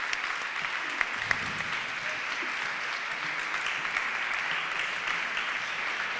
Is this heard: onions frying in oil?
no